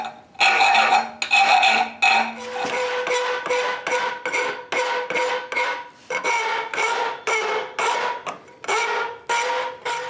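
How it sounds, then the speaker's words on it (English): A hammer drives a cold chisel through forged steel on a Russian door pull with a cross, giving a rapid run of ringing metallic blows, loud and close, some in quick pairs. "So I'm just going to cold chisel as far as I can through here."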